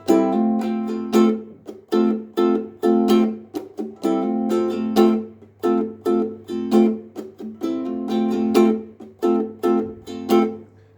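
Ukulele strummed in a steady repeating rhythm, bright chord strokes broken by short muted, percussive chops, played alone and up close.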